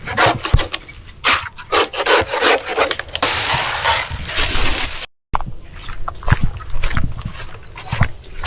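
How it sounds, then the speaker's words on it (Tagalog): A banana tree trunk being chopped and shredded for animal feed, rough rasping and scraping strokes in bursts, close and fairly loud, with a brief silent gap partway through. "Ginagayat yung puno ng saging."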